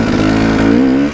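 A dirt bike engine revs hard and loud up close, a buzzy rising tone that holds briefly and then drops off.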